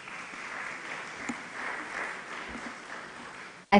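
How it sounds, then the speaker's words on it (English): Light, thin clapping from a conference audience after a speech at an e-mobility event, fairly quiet and sustained, ending with a sudden loud thump. "I think Mr. Nzioka deserves a better clap than that."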